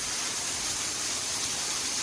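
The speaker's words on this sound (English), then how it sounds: "This is our first waterfall." A waterfall in the humid cloud forest of Monteverde, Costa Rica rushes in a steady, dense roar of falling water, continuous and close with no pauses.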